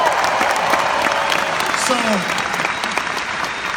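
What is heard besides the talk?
audience applause for home office staff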